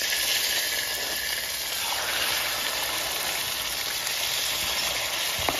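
Beef liver frying in hot oil, a steady bright sizzle that stays loud and even throughout, close up with no talking.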